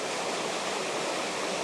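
A waterfall pours steadily in a landscape setting, giving a dense, even rush of broadband water noise that stays constant and close, with no voices over it.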